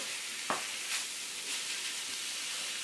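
Fresh venison from this year's harvest sizzling in a pan over medium-high heat, a steady faint hiss and crackle with a soft pop near the start and no talk.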